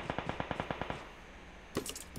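Automatic gunfire in the PUBG Mobile war mode: a rapid, evenly paced burst of about nine shots at moderate distance, then a brief pause and a sharper, noisier crack of further game sound.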